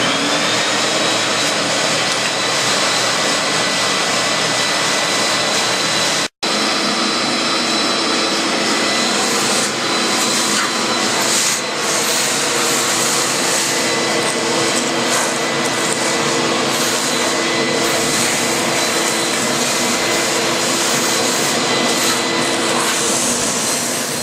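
A vacuum cleaner runs steadily over a cork surface before it is sealed, a loud continuous whine and rush that cuts out for an instant and then resumes for the rest of the stretch.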